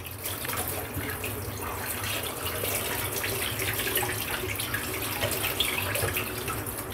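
Tap water runs steadily for several seconds, a constant close splashing rush over boiled meat being rinsed piece by piece for soup in a kitchen sink.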